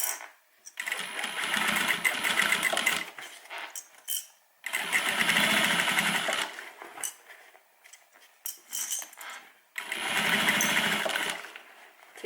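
A sewing machine stitches a handmade airliner cabin bag in three separate bursts of rapid, close needle clatter, with quiet pauses and small handling noises between them.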